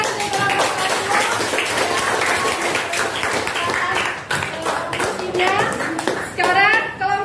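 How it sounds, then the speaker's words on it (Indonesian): A classroom of students claps their hands together in a quick, uneven burst of clapping, with children's voices chattering over it. "Ya, tepuk tangan"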